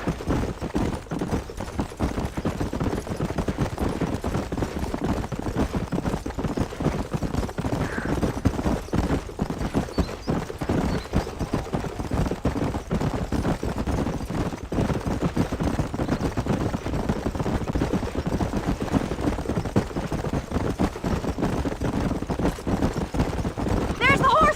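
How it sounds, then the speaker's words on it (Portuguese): Horses gallop in Red Dead Redemption, a fast, continuous drumming of hooves that runs the whole time under steady talking. "There's the horses!"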